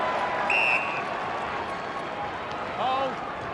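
Crowd noise from Essendon Bombers fans at a Port Adelaide versus Essendon AFL match in 2012: a broad, steady roar from the stands, with a few whistle-like tones and shouts rising above it.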